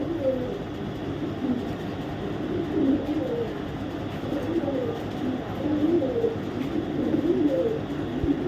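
Racing pigeons, including females, give repeated soft coos close by in a loose, overlapping rhythm over a steady low background hum.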